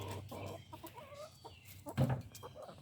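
Backyard hens, Buff Orpingtons and Americanas, clucking softly at close range in short murmuring calls, with one louder squawk near the end and no talking.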